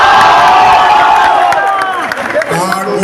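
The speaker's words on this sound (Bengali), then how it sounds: "একটা খুব বড়, খুব জোরে হাততালি প্রযোজক দেবের জন্য" A large crowd at a film event claps and cheers loudly for producer Dev, whoops and shouts rising over dense applause close by, with voices calling out through it.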